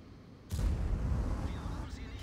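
A tank cannon fires in the World of Tanks video game, a sudden deep boom that rolls into a sustained low rumble lasting under two seconds.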